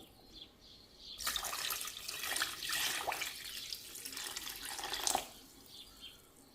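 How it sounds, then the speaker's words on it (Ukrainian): Cold water poured from a tap or jug into a pot over stuffed rolls with a cornmeal filling, a steady close splashing rush for about four seconds, with no talk. "Тепер заливаю їх водою. Туди Студену воду заливаю."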